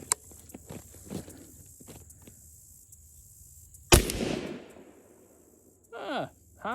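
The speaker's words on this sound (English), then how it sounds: "there's nothing more fun than zeroing a shotgun prone with slugs" A single loud shotgun slug shot fired from the prone position while zeroing a Beretta 1301 fitted with an RMR sight, one sharp blast with a lingering tail, followed shortly by a short burst of talk.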